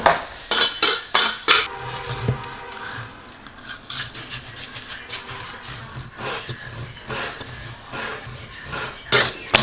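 Kitchen knife slicing meat on a wooden board, a burst of quick rhythmic chops at the start followed by slower scraping cuts and a few more clustered strikes near the end, close and fairly loud.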